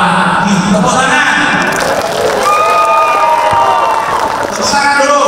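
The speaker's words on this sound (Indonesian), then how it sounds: "Tepuk tangan." A crowd at a national village gathering applauds and cheers, with whoops and shouts layered over steady clapping throughout.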